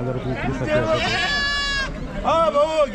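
Goats bleat loudly and close by at a rural goat and poultry market, with long wavering cries overlapping one another amid a busy background of people talking.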